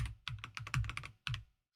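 Quick keystrokes on a computer keyboard enter a number into an Excel sheet: a short run of crisp, close clicks in an uneven rhythm, ending with one final tap.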